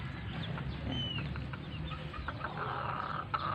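Gamecock stags cluck faintly on a farm, with scattered soft calls over a low background rumble during a few seconds.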